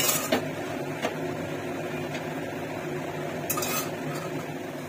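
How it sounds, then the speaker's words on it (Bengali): Quiet scraping and clinking of a spoon stirring dal with potatoes and spices in a metal pot, with a few sharper knocks against the sides and no talking. "ডালের সঙ্গে, আলুর সঙ্গে, মশলার সঙ্গে বেশ সুন্দরভাবে নাড়াচাড়া করে দিচ্ছে"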